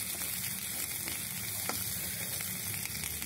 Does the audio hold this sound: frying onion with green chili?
yes